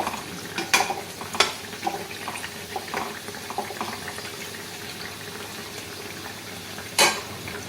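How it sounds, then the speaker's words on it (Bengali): Drumstick (sajne) flowers fry crisp in oil with a soft, bubbling crackle close by, broken by a few sharp clinks of the utensil against the pan. "ভাজাও প্রায় হয়ে এসছে, বেশ মুচমুচে ভাজা হয়েছে।"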